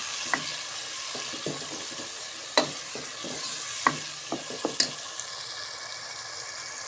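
A spoon stirs an onion-tomato masala with spices frying in oil, scraping and clacking against the pan in irregular strokes over a steady sizzle, close and fairly quiet.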